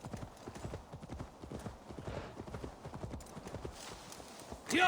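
Horse hooves clip-clop at a steady walking rhythm in Assassin's Creed Valhalla, near and continuous for several seconds, with a brief whinny-like burst at the very end.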